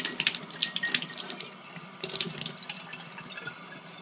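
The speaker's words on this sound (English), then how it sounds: "So I fill it with cold water." Cold tap water runs into a container at a sink, a close splashing stream with gurgling bursts that rise and settle over a few seconds.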